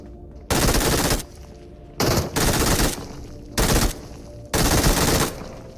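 Bursts of automatic gunfire in the battle royale game BGMI come in four loud sustained volleys, each roughly a second long with short gaps between.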